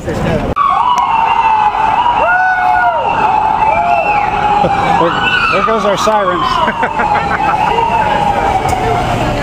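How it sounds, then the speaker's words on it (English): Several emergency vehicle sirens wail and yelp loudly as they pass along a busy street, layered over each other for the whole stretch, with a voice talking over them. "There goes our sirens."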